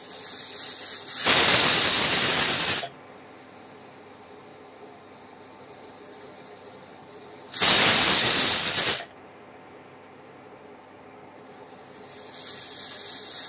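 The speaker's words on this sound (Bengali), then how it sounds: "মুগের ডাল কম সময়ে প্রেসার কুকারে সেদ্ধ করে নিচ্ছি।" Pressure cooker boiling moong dal vents steam in two loud, sustained hisses of about a second and a half each, separated by quieter kitchen background.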